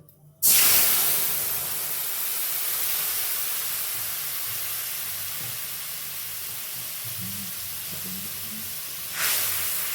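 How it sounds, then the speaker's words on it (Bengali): Spice paste of cumin, chilli and turmeric hitting hot oil with black cumin over fish, an abrupt loud burst of sizzling that settles into a sustained steamy hiss for several seconds, with faint clinks and a brief swell near the end. "এর উপর দেওয়া হবে আর একটা মশলার পেস্ট। এর মধ্যে রয়েছে জিরে, লঙ্কা, হলুদ।"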